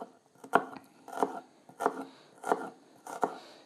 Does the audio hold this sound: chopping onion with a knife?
yes